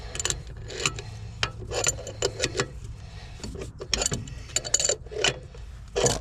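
An adjustable wrench tightens a part, giving close, irregular metallic clicks and ratchet-like taps in short bursts over a low background hum.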